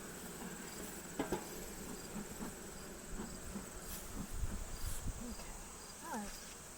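Honeybees buzz faintly around an open hive in sunlight, a soft continuous hum with scattered nearby wingbeats, some brief knocks and a little quiet speech.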